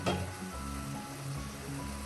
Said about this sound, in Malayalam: ഉള്ളിയും തക്കാളിയും എല്ലാം നല്ലതുപോലെ വഴന്നിട്ടുണ്ട്.